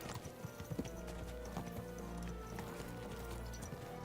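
Rhythmic horse hooves clip-clopping at a quick gallop in the video game Kingdom Come: Deliverance II, fairly faint with low rumbling background noise throughout.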